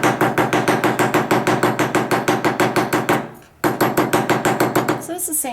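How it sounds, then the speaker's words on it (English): A plastic mallet taps a wire bangle on a bench block in a fast, even run of sharp strikes, about four per second, with a short pause midway before the tapping resumes. "I'm going to go ahead and tap it on my bench block because it's, you know, a flat thing here with my plastic mallet."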